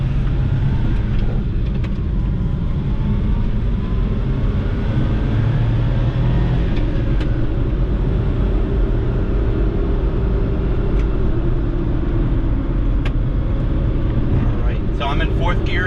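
A 1996 Suzuki Carry mini truck's small engine drones steadily from inside the cab while driving, a loud, constant low rumble with road noise; someone talks over it.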